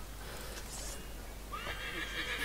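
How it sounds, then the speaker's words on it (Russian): A horse in the video game Assassin's Creed III gives a clear whinny, a high wavering neigh rising partway through and carrying to the end, heard alone over a steady low game background hum. "Ты куда пошёл-то, конь?"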